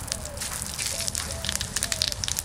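Bay leaf, dried chilli and cumin crackle and sizzle in hot oil, a dense steady hiss with quick pops throughout, close and fairly loud.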